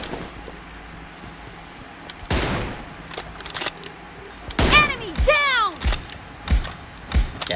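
Sharp gunshots crack out in BGMI, a few spaced loud reports each followed by ringing mechanical clicks and metallic handling sounds like a rifle being worked and reloaded, over a quiet background.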